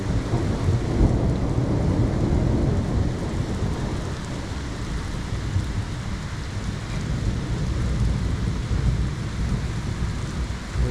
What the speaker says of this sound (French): Vraiment costaud à cet orage.